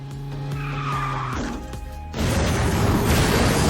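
A kart drifts in the KartRider racing game. A droning engine tone gives way to a loud, harsh tire skid that holds steady to the end.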